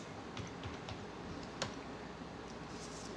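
Typing a command on a computer keyboard, with a steady stream of soft, close key clicks and one sharper tap midway, no talking.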